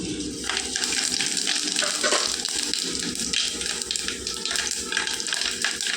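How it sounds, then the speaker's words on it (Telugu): Mustard and cumin seeds sputter in hot oil as a tempering for spinach dal, making a loud continuous hissing sizzle with dense crackling throughout and no talk. "నూనె వేడెక్కిపోయిందండి. ఈ ఆవాలు, జీలకర్ర వేసుకుందాం."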